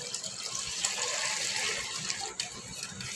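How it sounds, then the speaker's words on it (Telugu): Water is poured into Telugu-style buttermilk curry (majjiga pulusu) with salt, a steady rushing, splashing pour that runs close and fairly loud for about three seconds, with no talking. "అలాగే తగినన్ని నీళ్ళు"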